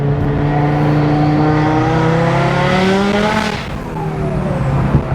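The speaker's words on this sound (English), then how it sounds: "This car is incredibly loud" A 1000HP Audi RS3 engine revving hard and loud up through rising pitch, dropping off briefly, then climbing again, close and raw with no talking.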